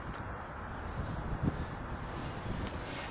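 A 72-inch Extra 330SC model airplane engine hums steadily at low throttle outdoors, a faint continuous drone with a thin high whine and gusty wind noise, no talking.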